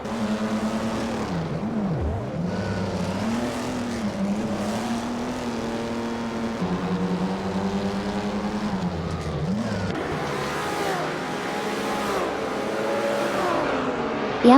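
Race cars in a racing video game battle closely for ninth place, engines droning continuously with rising and falling pitch sweeps as the cars jostle, loud and steady throughout with no talk.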